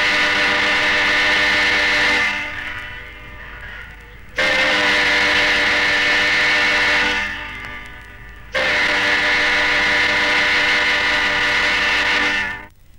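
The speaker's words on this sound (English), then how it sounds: "has a three-tone chime air whistle which gives this unusual sound" On the River Mersey, a ship's three-tone chime air whistle gives three long, loud blasts, each held for a couple of seconds with short pauses between.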